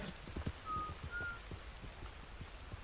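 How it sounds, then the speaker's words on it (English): Two short whistled notes in Red Dead Redemption 2, faint and thin over a quiet outdoor backdrop with soft clip-clop hoofbeats beneath. "Who's whistling?"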